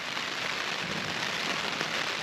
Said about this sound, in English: now it's hoying down with rain